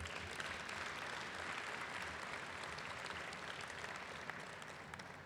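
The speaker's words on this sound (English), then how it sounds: "Let's give them another round of applause." Faint, steady applause from an audience at a military change of command ceremony held outdoors on a field, continuing evenly throughout.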